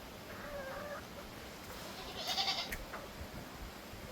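A crossbreed goat bleats twice, faint and somewhat distant, over a quiet farm background with no talk.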